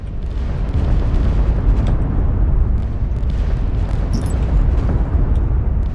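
Continuous rumbling explosions from a space battle in the strategy video game Sins of a Solar Empire 2: a dense, heavy booming roar with scattered sharper pops, steady and loud throughout with no talk.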